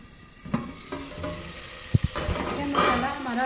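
Tomato masala for mash ki daal fries in a pan and is stirred, a soft sizzle under scattered scrapes and clinks of a spoon against the pot, close and moderately loud, with no talking.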